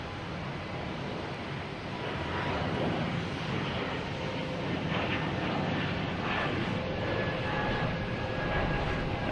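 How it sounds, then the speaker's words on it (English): A JetBlue Airbus A220 jet airliner bound for Pittsburgh at Boston Logan Airport gives a steady, broad engine roar that holds at a fairly even level throughout, mid-distance, with no talk. "we have a JetBlue heading to Pittsburgh for you, a 2185, an A220"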